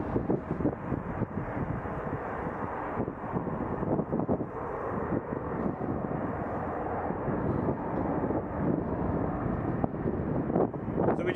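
A fixed-wing airliner at Toronto Pearson airport rumbles steadily for the whole stretch, with continuous broadband engine roar and some wind buffeting on the microphone, fairly distant and unbroken.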